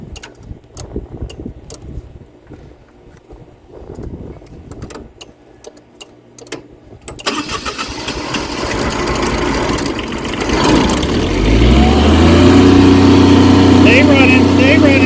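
A Kubota lowboy 2 series diesel generator: a stretch of clicking and handling noises, then the engine catches and settles into a loud, steady running drone with a rising tonal hum.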